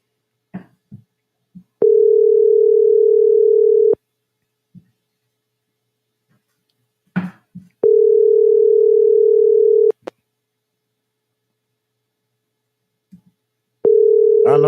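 An unanswered phone call rings through a handset as a steady ringback tone: three identical bursts of about two seconds each, spaced by long silent gaps, with a few faint sounds between them.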